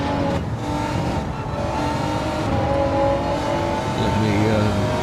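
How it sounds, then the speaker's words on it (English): Racing-game car engine droning loud and steady, a continuous revving hum that swells slightly, with a voice faintly present under it. "Engine sound is drowning out voice."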